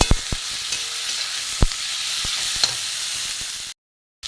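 Jackfruit filling for kochuri is stir-fried in a pan, giving a steady close sizzle broken by several sharp spatula scrapes and taps, then a brief cut to silence near the end.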